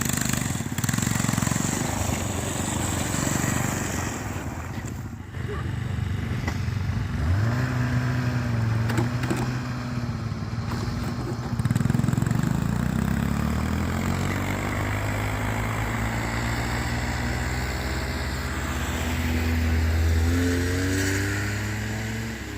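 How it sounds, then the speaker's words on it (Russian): Two snowmobiles driving through a forest on a family winter fishing trip, engines droning and revving loudly and steadily throughout, with shifting pitch as they accelerate. "Едем на 2 снегоходах."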